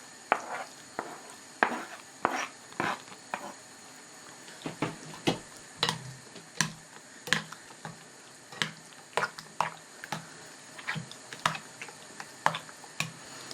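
Eggplant and diced meat are stirred in a pan for a cubed-meat Ali Nazik kebab, with regular sharp taps and scrapes of a utensil against the pan in a steady rhythm, close and clear with no talk.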